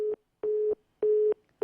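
Telephone busy tone after a call drops, steady beeps in an even on-off rhythm, loud and clean with silence between pulses.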